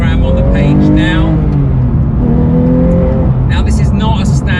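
A Porsche 991.2 GT3 Touring with a full aftermarket exhaust and short-shift gearbox, its engine droning loud and close with rising and falling revs, a voice faintly present.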